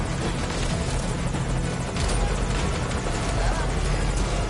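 Helicopter rotor and engine noise from a PS4 military shooter, a steady loud churning drone with rapid blade chop that holds throughout the whole stretch.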